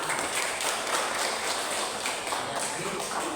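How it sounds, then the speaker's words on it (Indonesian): A classroom breaks into applause, with steady, dense clapping from many hands that stays at an even level throughout, fairly close and with no voices over it. "Tepuk tangan."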